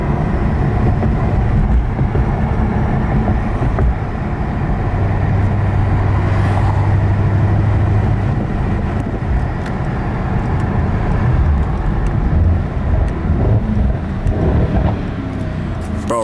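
A Mercedes-AMG E63s is driven fast on a highway at night, giving a loud, continuous interior roar of engine and road noise that stays steady throughout with no talking.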